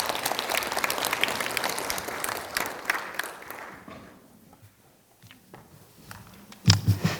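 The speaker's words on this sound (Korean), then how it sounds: "조기령 교수님을 뜨거운 박수로 맞이해주시기 바랍니다" Audience applause welcoming a professor to the podium at a Buddhist studies memorial academic conference at Dongguk University, dense clapping for about four seconds that fades out, followed by quieter rustling and a brief bump near the end.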